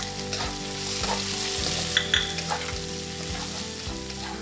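Mixed vegetables with red chili, prawns and carrot stir-fried over high heat in a pan, a steady close sizzle broken by repeated scraping and tossing strokes of a utensil, with no voices.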